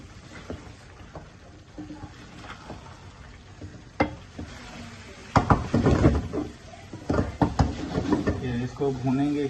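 Chicken frying in butter chicken gravy in a pan, soft sizzling with scattered knocks and clatters of a spoon against the cookware, louder stirring bursts toward the end, under a voice talking.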